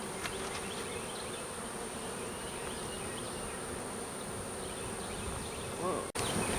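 Honey bees flying around an outdoor hive produce a steady, dense buzzing hum that fills the whole stretch evenly, close by, with a brief disturbance near the end.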